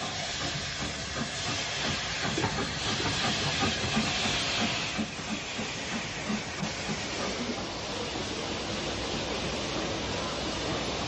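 An L12 class steam locomotive, number 424, arrives with the Portsmouth train at Sutton on the Southern Railway in archive footage from the 1950s or 60s. A steady, loud hiss and rumble carries on throughout with no voices.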